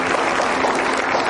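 A studio audience claps to welcome a guest in a steady burst of applause, close and dense, with no talk.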